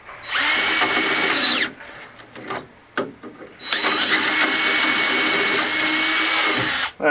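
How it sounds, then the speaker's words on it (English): A drill press bores through a fence post with a steady high whine, running for about two seconds, pausing briefly amid a few clicks, then drilling again for another three seconds. "Much easier doing them on the press drill."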